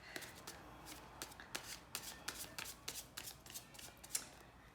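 Tarot cards riffled and shuffled in a quiet room, a quick series of crisp papery flutters and soft slaps repeating steadily at moderate, close volume, with no one speaking.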